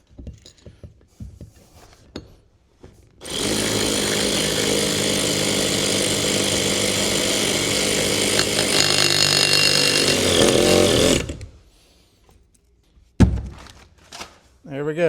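A power tool whines continuously for about eight seconds while screwing down a part on a Javelin car interior with the seat removed, framed by brief clunks and handling noises before and after.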